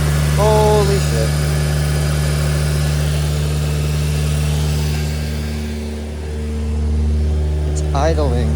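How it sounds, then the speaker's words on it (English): Engine of a 7th-generation Honda Accord after a manual transmission swap, idling high with a steady, loud, close drone that dips briefly and returns, while people talk excitedly over it. "It's idling really high."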